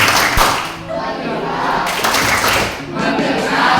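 A classroom group claps out a 'tepuk fokus' rhythm during a guidance counselling lesson, with sharp, close claps in quick bursts mixed with loud voices chanting along.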